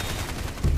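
Sentry guns fire in the Evolve video game as a dense, continuous rattle of rapid shots, with a heavier, louder burst at the end of the brief moment.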